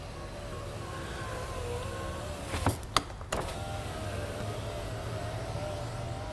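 A Honda Element power window motor runs steadily with a low electric whine, broken midway by a few sharp clicks and knocks, heard close and alone.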